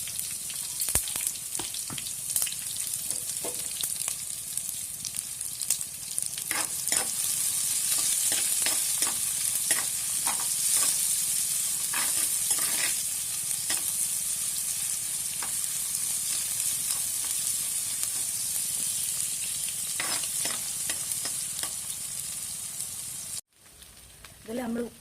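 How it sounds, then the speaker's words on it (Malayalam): Curry leaves, green chilli and onion fry in a pan, giving a steady close sizzle with scattered crackles and the scrape of stirring, held evenly for over twenty seconds before a brief break near the end. "കരിവേപ്പില, പച്ചമുളക്, ഉള്ളി ഇതൊക്കെ അങ്ങോട്ട് ഇടാം"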